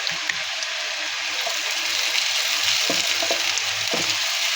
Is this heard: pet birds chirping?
no